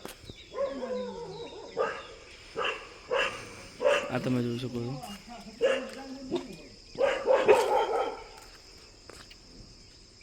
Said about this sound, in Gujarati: આપણે કૂતરાભાઈ આવી ગયા